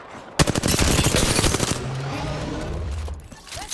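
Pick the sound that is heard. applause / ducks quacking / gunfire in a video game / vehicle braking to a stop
gunfire in a video game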